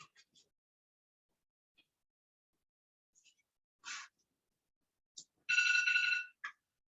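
A phone ringtone goes off during a city council meeting, a few short chirps and then a loud steady electronic ring that lasts about a second, then a brief final blip, with near silence between.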